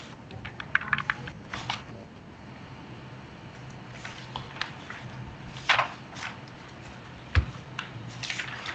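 Quiet keystrokes on a computer keyboard, irregular clusters of light clicks with short pauses and a sharper tap near the end, close to the listener and free of speech.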